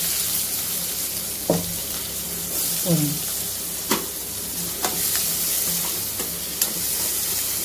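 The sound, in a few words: onion and chilli tempering in a pan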